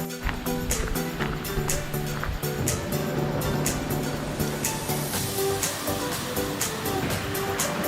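Continuous rushing water from the many waterfalls and cascades along a short trail to a basin in New Hampshire's White Mountains National Forest, a steady broadband roar with faint musical tones and voices beneath.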